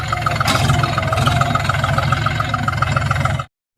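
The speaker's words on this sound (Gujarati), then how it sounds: "માંડવીનો એવો છે ટ્રેક્ટરનો એ અવાજ" A steady, rumbling tractor engine idles close by with a regular low chug, running continuously before cutting off abruptly near the end.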